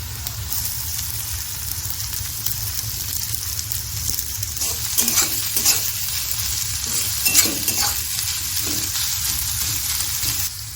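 Chopped onion and carrots sizzling in oil in a wok while cooking chowmein, a continuous hiss broken by several stirring scrapes and clinks near the middle, with no talking.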